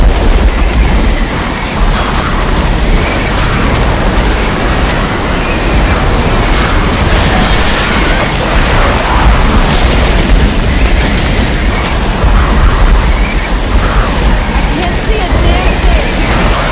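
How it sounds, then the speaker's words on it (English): A pipe bomb explodes in Left 4 Dead 2 during a rainy stage, a loud sustained booming roar full of crackling bursts, with no pauses across the whole stretch. "Pipe bomb out."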